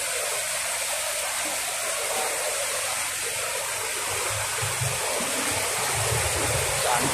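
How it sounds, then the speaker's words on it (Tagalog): Rushing floodwater during Typhoon Carina, a constant broadband roar like a heavy stream or torrent, loud and unbroken throughout with no pauses. "Pagpakakita ko sa inyo yung tubig mga katrops, sobrang baha."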